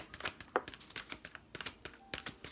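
A deck of tarot cards being shuffled by hand, giving quiet, close riffles and papery flicks in irregular bursts with brief gaps, and no one speaking.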